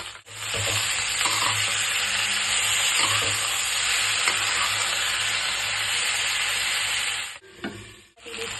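Chopped centella leaves hit a hot curry pan with potatoes and sizzle loudly in a steady, close frying hiss, with occasional stirring scrapes, before the sizzle briefly drops near the end.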